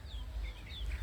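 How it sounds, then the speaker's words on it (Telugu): Chickens at an old house making soft clucks, faint and brief over a low rumbling background. "ఇదిగో కోళ్ళు"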